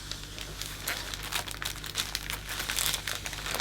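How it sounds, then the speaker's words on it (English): Cellophane being handled and crinkled while measuring it to wrap the base of a hand-tied flower arrangement, a busy run of crisp crackles and rustles, close and fairly quiet. "we're going to first of all measure how much cellophane I require to wrap the base."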